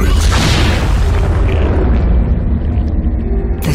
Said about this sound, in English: The savagery of the explosion wiped Conan's memories from his mind.